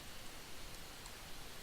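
Steady rain falls on an island in The Sims 4, a faint, even hiss of drops with no talk, constant throughout the short stretch.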